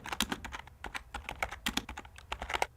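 Fingers typing on a computer keyboard while filling an Acrobat form field, a quick close run of light key clicks in uneven bursts, alone and fairly quiet.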